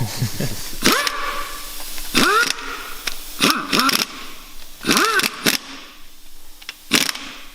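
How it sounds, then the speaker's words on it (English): An impact wrench rattles in short repeated bursts while tightening bolts on the bottom end of a junkyard LS V8 engine in a garage, each burst spinning up with a whirring whine, close and loud, with brief pauses between. "surely you're not going to use a rattle gun on the inside of an engine, are you?"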